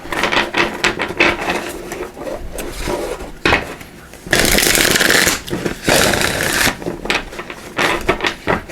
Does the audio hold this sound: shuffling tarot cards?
yes